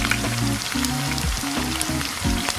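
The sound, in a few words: chili paste, ginger and garlic frying in oil in a pan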